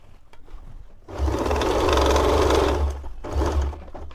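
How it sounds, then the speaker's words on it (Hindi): A sewing machine runs in a steady loud whir for about two seconds while stitching pleats on a girl's silk top, stops, then starts again in a shorter burst, with quiet handling before it. "वापस यहाँ से सिलाई करते हुए आएंगे"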